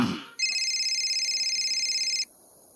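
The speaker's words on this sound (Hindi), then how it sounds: "अभी लगाता हूँ फोन।" A phone ringing as a call is placed: one electronic ring tone, loud and close, sounds steadily for nearly two seconds and then cuts off sharply, with no talking.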